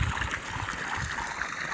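Clean water pours from a farm pipe in a steady gushing, trickling flow, close and continuous with no talk.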